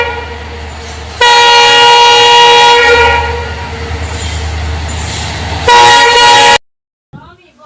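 Loud train rumbling past with a sustained horn blast that cuts off, sounds again near the end, then stops abruptly.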